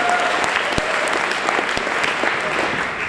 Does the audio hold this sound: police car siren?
no